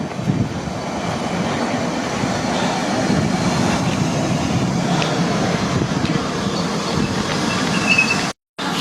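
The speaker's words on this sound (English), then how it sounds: "Arnos Grove is the Piccadilly line service from Heathrow Terminal 4." A London Underground Piccadilly line train from Heathrow Terminal 4 rumbles into Northfields station at night, a loud continuous roar of wheels and rails with squealing tones, steady and close, ending abruptly.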